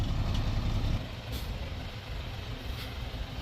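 An Isuzu FXZ360 truck engine rumbles low and steady nearby, with faint hissing and brief higher sounds over the idle.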